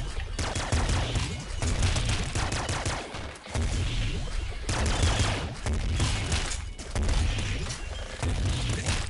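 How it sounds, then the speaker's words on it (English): Rapid automatic flame shotgun fire in the top-down shooter Nuclear Throne, a dense, loud stream of compressed blasts and crackling bursts that runs almost unbroken, dipping briefly only a few times. "ooh, auto flame shotgun."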